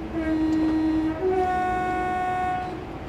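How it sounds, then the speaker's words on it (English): A simulated train coasts with power shut off on the Kings Cross to Peterborough route in Train Simulator 2016, a steady loud rumble with sustained tonal hums that shift in pitch, no talk. "I have now shut off the power to allow the train to coast"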